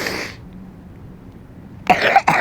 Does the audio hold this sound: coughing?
yes